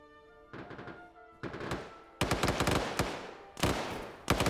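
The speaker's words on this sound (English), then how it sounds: "That gunfire is going to make at least 1 squad respond to it" Bursts of PKP machine gun fire in a tactical shooter game: short strings of rapid shots arrive in several separate volleys, growing louder and sharper toward the end, with no talking over them.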